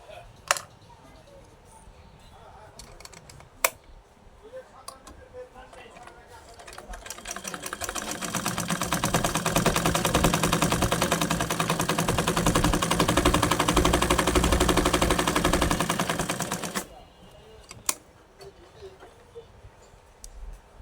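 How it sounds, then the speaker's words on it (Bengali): A sewing machine with its bobbin case fitted runs for about ten seconds as a loud, fast, even mechanical rattle, with a few sharp clicks and quiet handling before and after. "এখন আবার এই মেশিনটি চালিয়ে দেখাবো এই ববিন কেসটি লাগিয়ে।"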